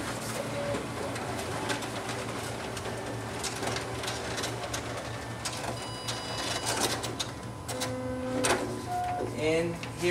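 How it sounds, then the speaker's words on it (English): A Xerox WorkCentre 5230 copier runs its document feeder and staples a set, giving a steady mechanical hum with repeated feeding clatter and short whirring bursts near the end, close and fairly loud. "as you can see, the document feeder is working properly"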